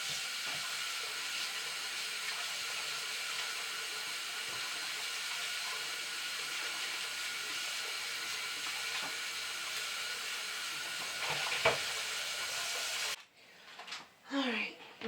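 Lo mein noodles rinsed under a running kitchen tap, a steady broadband hiss of flowing water that continues evenly, then cuts off near the end, leaving brief quieter handling noises.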